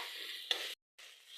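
Onions, turmeric and tomatoes sizzle loudly in hot oil in a wok, a close, steady hiss with a brief sharp crackle, cut by a short silence before the frying resumes.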